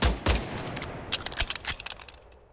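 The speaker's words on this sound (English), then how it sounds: "And now a handgun, the Crate P68. It fires one shot per pull" Crate P68 handgun in Call of Duty MW4 firing rapidly: a quick string of about a dozen sharp, clacking shots in an irregular burst, loud at first and tapering off.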